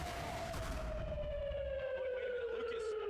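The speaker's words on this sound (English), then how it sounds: "Those damn air raid sirens again." Air raid siren wailing loudly and steadily, its tone sliding slowly downward over a few seconds, with a burst of broadband noise early on and faint voices underneath.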